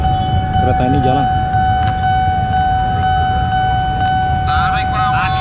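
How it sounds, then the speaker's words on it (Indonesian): A train rumbles steadily through a level crossing with its engine drone, while a crossing bell rings continuously as a loud tonal tone. People talk nearby. "Kereta ini jalan"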